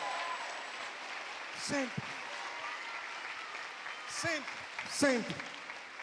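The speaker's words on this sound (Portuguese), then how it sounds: "Uma salva de palmas primeiro ao Senhor." A congregation at a water-baptism service in an evangelical church applauds steadily for the Lord, and a voice repeatedly speaks over the sustained clapping.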